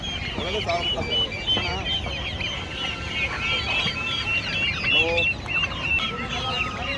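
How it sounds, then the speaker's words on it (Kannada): Kadaknath chickens and chicks clucking continuously at a busy Sunday goat and sheep market, with dense overlapping calls close by and people talking in the background. "ಇದು ನೋಡಿ ಕಡಕ್ನಾಥ್ ಮರಿಗಳು ಇದೆ ಸರ್"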